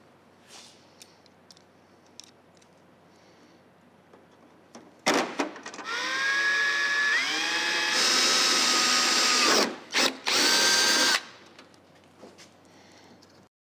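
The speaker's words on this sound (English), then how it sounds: "what I'm gonna do is go ahead and drill some holes" A drill bores holes in a carbon fiber fender flare on a classic Camaro road-course build. The whine rises steadily for several seconds, then stops and restarts in short bursts, with quiet clicks and handling noise before and after.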